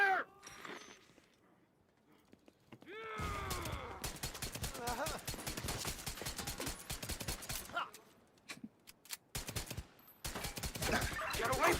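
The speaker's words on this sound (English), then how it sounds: "Opening fire!" Video game gunfire crackles in dense, rapid bursts broken by brief pauses, with the firing picking up again near the end after a quiet opening.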